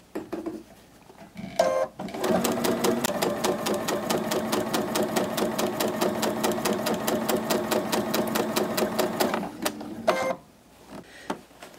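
A sewing machine runs steadily for about eight seconds, stitching binding strips for a quilt, its fast regular needle clatter loud and close, with brief handling sounds before and after and no talk.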